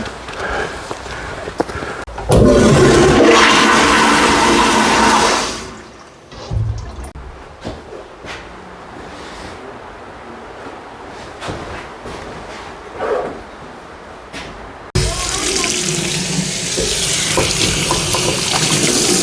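A toilet flushes with rushing water in a campground bathroom, heard as a loud surge that fades into quieter trickling and dripping. A second burst of running water follows later.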